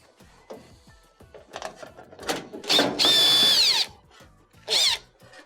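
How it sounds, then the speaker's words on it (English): A power drill removes a ground screw from a GE dryer, several short whirring bursts with a longer high-pitched spin in the middle, close up, mixed with clicks and handling noise. "We have one ground screw on the bottom that will need to be removed."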